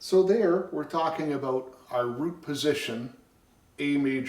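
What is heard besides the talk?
None of the usual background noises is heard.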